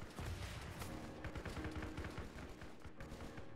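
Rocket fired in a military shooter video game, a dense rumbling burst of blasts and crackling gunfire that rolls on for several seconds, loud and unbroken, with no talk over it.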